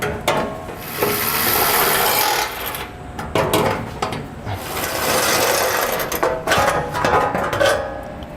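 A ratchet wrench clicks in quick bursts while bolts are removed from a Ram truck during a fifth wheel hitch installation, rapid mechanical ratcheting close by with short pauses between runs.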